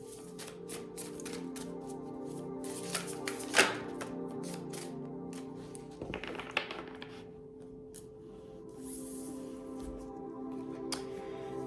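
Tarot cards are shuffled close by, soft rapid riffling and tapping with occasional sharper clicks and a brief rustle, quiet and continuous with no talk.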